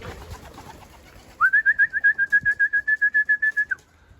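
A young homing pigeon gives a clear, close call: a run of about fifteen quick, even, high-pitched pulses. A soft, hushed background comes before and after it.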